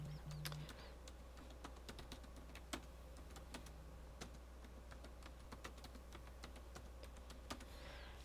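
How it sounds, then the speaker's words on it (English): Soft, rapid clicking of a computer keyboard being typed on, irregular keystrokes close by over a low steady background hum, with no talking. "I can type it in right now."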